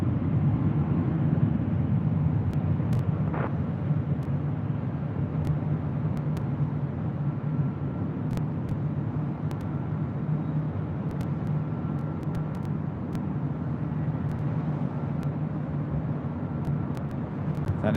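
A Qantas Freight Atlas Air Boeing 747-400 freighter at LAX, heard as a steady, distant low rumble of jet engines that holds at an even level throughout without voices.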